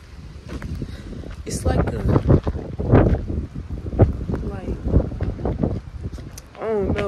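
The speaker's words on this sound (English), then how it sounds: "I feel like the wind is like blowing me. It's so windy out here." Strong gusting wind buffets an outdoor spot before a storm, roaring and rumbling in uneven surges close to the microphone while someone talks over it.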